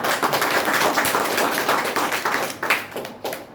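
Audience at a business seminar clapping hard in a dense, continuous burst of applause that carries on steadily before thinning out near the end.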